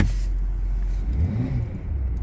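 A 2023 hybrid car's synthetic engine sound plays through its speakers inside the cabin, a deep, steady low hum and whir that rises slightly in pitch partway through.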